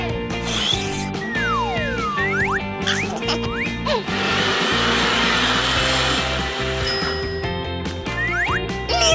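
Loud whirring motor of a blender blending watermelon, pineapple, strawberry and apple under lively background music, grinding steadily for several seconds.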